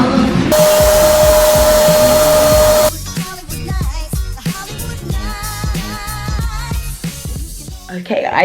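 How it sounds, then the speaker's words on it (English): Spray tan sprayed inside a tent: a loud, steady airy hiss with a faint whine lasts about two and a half seconds, then gives way to quieter rustling and handling noises. "about to get in the tent and get my spray tan now"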